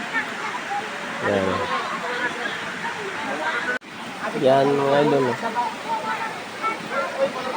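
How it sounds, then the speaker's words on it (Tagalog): Constant roar of Tumalog Falls in Oslob, Cebu, a broad steady rush of falling water with someone talking over it at close range. "Napakaganda po ang Tumalog Falls."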